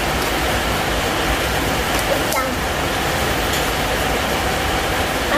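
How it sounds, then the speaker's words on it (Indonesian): Steady rain falls outdoors as a dense, even hiss that holds at a constant level throughout, close and fairly loud, with no clear voices above it. "Hujan."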